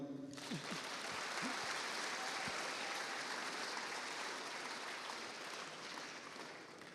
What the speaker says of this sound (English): So, round of applause for you, everybody.